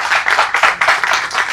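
At an award ceremony for a young writers' Hindi story competition, the audience claps loudly and close by in a short, pulsing burst of hands lasting under two seconds.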